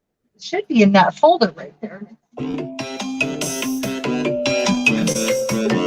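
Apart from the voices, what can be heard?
mobile phone ringing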